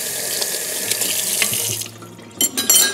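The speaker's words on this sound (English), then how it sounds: "So we're gonna rinse our fork," A fork rinsed under a running kitchen tap, a steady close stream of water that breaks into splashy bursts near the end as the fork passes through it.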